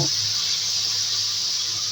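Water pours steadily into a cooking pan of fried onion, green chili, turmeric and chili powder, with papaya and egg curry underway. The close, even hiss runs unbroken for the whole two seconds.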